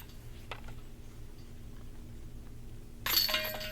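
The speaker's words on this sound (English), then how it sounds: "that basket makes a really funny noise" A sudden metallic jangle of disc golf basket chains rings out near the end after a quiet stretch with faint background noise, bright and clattering.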